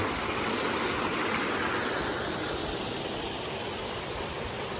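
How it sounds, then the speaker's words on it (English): A lush waterfall beside a steep, rocky, green stretch of the 4th of July Trail gives a constant loud hiss of rushing water with no pauses or voices. "Lush, beautiful waterfall here on the 4th of July Trail."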